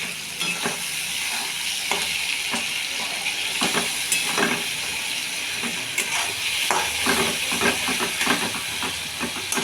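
Asafoetida frying in hot oil for a spicy Bengali fish curry, a steady close sizzle and hiss with scattered crackling pops and a few stirring scrapes throughout, no voices.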